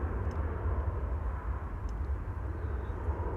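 A Vueling airliner at Amsterdam Schiphol Airport gives off a steady distant roar of jet engines, a continuous low rumble that holds evenly with no talking.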